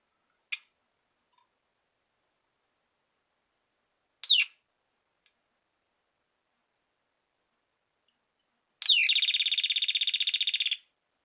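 Electronic circuit under test with new capacitors gives off bird-like chirps: two short isolated chirps, then a longer buzzing trill of about two seconds, all sharp and clear against silence.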